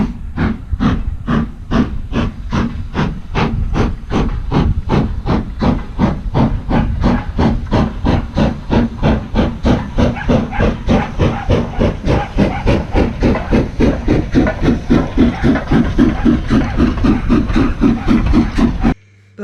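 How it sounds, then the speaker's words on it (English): Steady rhythmic chuffing of a steam locomotive passing close by, loud and regular bursts of hiss continuing for about twenty seconds without talk. "Oh, there's a steam train."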